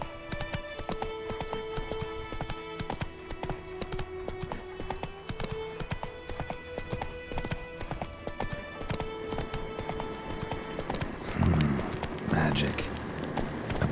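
Roach gallops in The Witcher 3: Wild Hunt, hooves drumming in a quick steady rhythm beneath game music and a voice, with a louder rumble late on.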